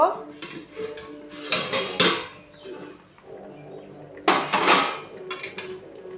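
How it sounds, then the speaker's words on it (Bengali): A metal lid lifted off a pot of bottle gourd leaf paste and fish simmering on a low gas flame, giving a couple of sharp clanks and scrapes with kitchen clatter between them, close and fairly loud. "এবার ঢাকনাটা তুলে দেখব"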